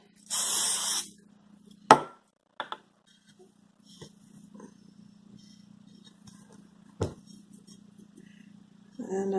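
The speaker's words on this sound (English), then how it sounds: "spray the table with some, oil spray, no stick cooking spray" A can of non-stick cooking oil sprays onto a table in one short hissing burst, followed by quiet handling knocks and taps in a kitchen, with a faint steady hum beneath and another brief hiss at the end.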